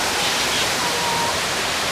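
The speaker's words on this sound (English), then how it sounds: "Very large waterfall." A very large waterfall at the Los Angeles Zoo pours with a steady, dense roar of broadband rushing water, loud and continuous without pauses.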